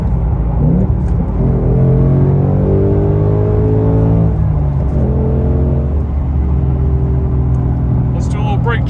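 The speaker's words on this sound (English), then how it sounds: "Here comes another downshift without me touching the gas pedal." A 2024 Ford Mustang Dark Horse automatic drops gears on its own, the engine note stepping up in pitch through clear rev changes over a steady loud cabin rumble.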